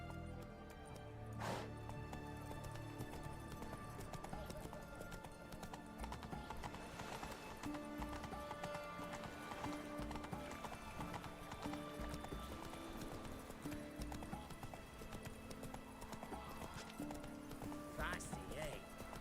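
Horse hooves clip-clopping in steady rhythm while riding in the video game Witcher 3: Heart of Stone, mixed with game music, a whinny and voices talking over it.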